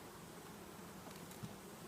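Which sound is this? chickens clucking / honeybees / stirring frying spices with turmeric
honeybees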